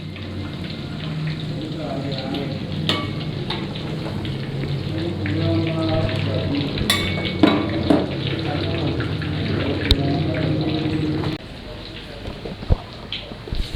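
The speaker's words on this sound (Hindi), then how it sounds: "करेले हम अच्छी तरह फ्राई करेंगे इसमें।" Bitter gourd (karela) sizzling as it fries in hot oil, a steady dense crackle and spatter close by that eases slightly near the end, with a few sharper pops and some talk over it.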